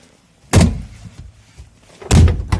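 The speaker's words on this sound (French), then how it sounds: "Avec cette porte qui ferme mal." The door of a Citroën GS that closes badly is shut with a solid thunk, then slammed a second time about a second and a half later, both close and loud with no talk.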